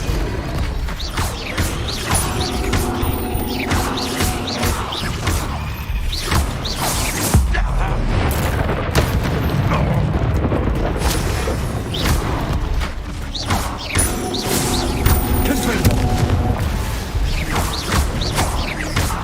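Booming blasts from the Confringo curse in Hogwarts Legacy over dense battle effects and a rumbling mechanical clatter, loud and continuous with a few sharper hits.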